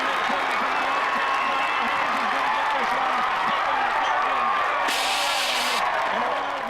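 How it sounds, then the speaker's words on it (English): A race crowd cheers and applauds for the CPCA 2011 championship driver at the finals, with a steady wash of clapping and shouting and a voice talking over it. "the crowd gets on their feet to celebrate the CPCA's 2011 championship driver."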